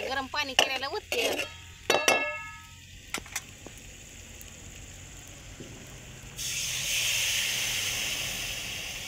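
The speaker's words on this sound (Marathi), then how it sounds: "आता गरम पाणी केलेलं ओतते." Hot water poured into a sizzling aubergine curry pan on a wood-fired clay stove, opening with metallic clinks of utensils, then a loud sustained hiss and steam rush rising near the end.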